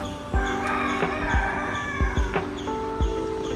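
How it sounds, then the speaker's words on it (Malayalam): Chickens at a chicken farm in Palakkad cluck and squawk in a busy chorus, with a rooster crowing through it and repeated low thumps underneath, fairly close. "കോഴി ഫാം ഇതാണ്."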